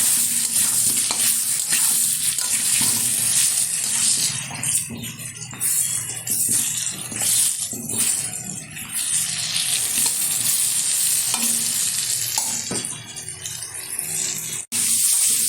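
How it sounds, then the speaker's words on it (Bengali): Potatoes frying in oil with a spoonful of turmeric powder while being stirred, a steady loud sizzle with scraping and clinks of the spatula against the pan throughout, close up with no talking. "দিয়ে দেবো এক চামচ হলুদ গুঁড়ো ভালোভাবে আলুটা ভেজে নেবে"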